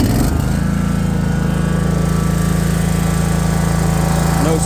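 A 62-inch John Deere Z465 zero-turn riding lawn mower with 600 hours cranks briefly, then catches and runs at a loud, steady, droning idle close by.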